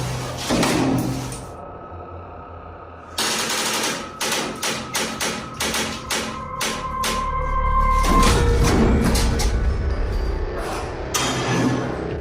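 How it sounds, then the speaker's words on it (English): A door in a haunted room bursts open with a rapid series of loud knocks, thuds and rattles, followed by a heavy, sustained rumble and a few lighter clatters, close and forceful. "soon it bursts the door open"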